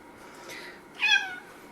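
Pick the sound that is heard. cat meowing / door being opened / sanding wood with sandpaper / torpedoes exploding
cat meowing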